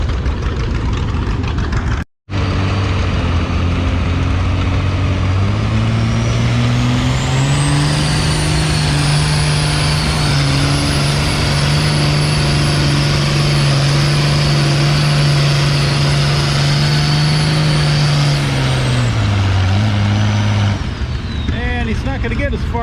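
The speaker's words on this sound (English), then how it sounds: "next on the big sled is the Oliver 1800. It's another Cummins swap tractor." An Oliver 1800 tractor with a swapped Cummins diesel engine roars loudly and steadily while pulling a big sled at a tractor pull, its heavy engine note climbing and holding for about fifteen seconds before easing off.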